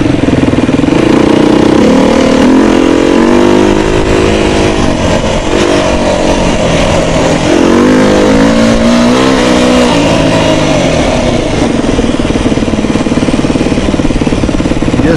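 A Suzuki DRZ 400 motorcycle rides across a large gravel pit, its engine loud and close, rising and falling in repeated revving surges over a constant rough rumble.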